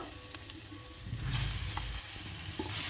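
Olives frying in hot oil with dry chilli and panch phoron spices for a pickle, a steady close sizzle that swells as the pan is stirred, with no voices.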